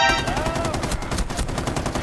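Rapid automatic gunfire from a weapon in Rainbow Six rattles loudly and continuously for about two seconds, dense evenly spaced shots right up close.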